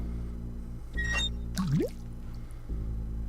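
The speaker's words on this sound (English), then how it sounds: "Let's fill the bucket with water." Water pouring into a bucket in the adventure game Day of the Tentacle: a few bright drips, then a rising gurgling glug as the vessel fills, set over a steady low background hum.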